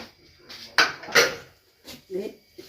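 A spoon clinks and scrapes against a pot while chickpea curry with meat masala is stirred, a few sharp metallic knocks and rattles in quick bursts, up close with quiet gaps between.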